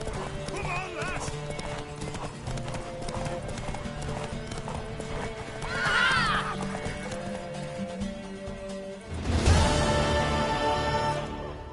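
A mare in The Witcher 3 gallops with steady clip-clop hoofbeats, gives a sharp whinny midway and more neighing near the end, while voices talk over the game sound.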